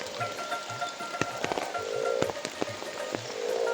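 Heavy rain flooding a village patters steadily, with sharp drops splashing close by at irregular intervals and a faint rhythmic croaking low beneath.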